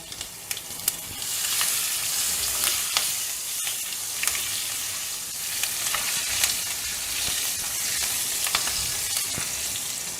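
Green chilies crackle and sizzle in hot oil just after asafoetida is added, a steady frying hiss with scattered sharp pops, close and moderately quiet, with no talking.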